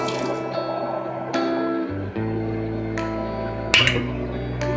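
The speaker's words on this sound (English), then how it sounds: "we'll just let that drip out while that's boiling." Homemade limoncello made with lemon and alcohol drips out of a strainer in a kitchen, giving wet trickling and dripping sounds over a steady tonal hum with a few sharper clattering spots.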